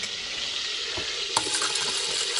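Chicken tabaka pieces sizzling in a pan with a little oil are stirred, a dense steady frying hiss with a soft scrape and a single clink of the utensil against the pan, close by.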